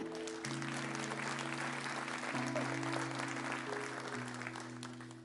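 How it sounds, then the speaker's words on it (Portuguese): A Pentecostal church congregation applauds during a service, a fairly faint, steady spread of clapping over sustained keyboard chords that tapers off toward the end. "aplauda o Senhor aí"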